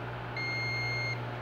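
A multimeter's single sustained electronic beep, testing a microwave oven fuse, sounds for under a second over a low steady hum, then cuts off cleanly.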